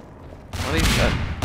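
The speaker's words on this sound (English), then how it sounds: "all I can hear is explosions and death" Gunfire and explosions in the video game Half-Life 2, a sudden loud burst of rapid shots and booms that cuts in after a quiet start, with a second blast at the end.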